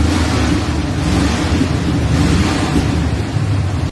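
Steady, heavy wind roars and buffets a microphone outdoors, a continuous low rumble with no breaks.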